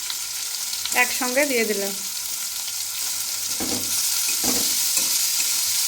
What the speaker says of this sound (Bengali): এবারে কিছুক্ষণ হালকা ভেজে নেব।